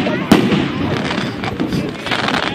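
July 4th fireworks burst at close range over Margate, New Jersey, with a sharp loud bang followed by crackling and rumbling blasts while people talk nearby.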